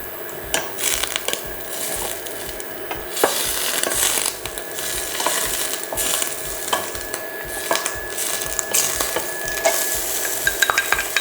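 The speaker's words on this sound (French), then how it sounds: "je vais mettre un petit peu d'huile d'olive et du beurre. Et je vais faire revenir mes oignons." Onions frying in olive oil and butter in a pan for a mushroom tart, a steady close sizzle broken by sharp scrapes and clinks of a utensil stirring, with no one talking.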